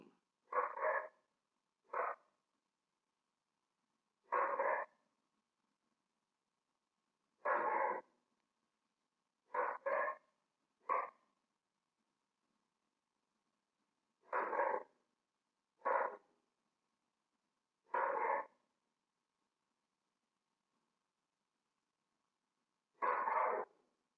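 A dog barks in short separate bursts, about a dozen spread unevenly across the span, fairly close and alone against silence between barks.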